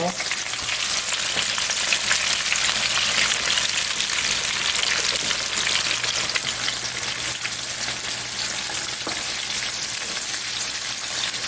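Floured chicken deep-fries in hot oil, a dense, even crackling sizzle with scattered sharp pops that carries on steadily and close for the whole stretch, with nobody talking.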